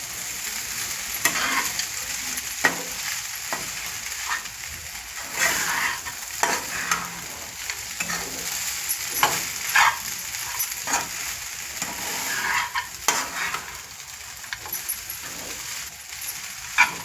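Kande pohe, flattened rice with onion, is stirred slowly by hand in a frying pan over medium heat, giving a continuous close sizzle and frying hiss with soft repeated scraping and stirring strokes throughout.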